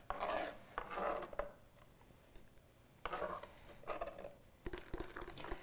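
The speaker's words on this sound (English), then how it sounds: "Now I can stir my nuts into that banana mixture." Nuts being stirred into a banana bread batter in a bowl, giving soft, close scraping and rubbing strokes in several separate bursts with quiet pauses between.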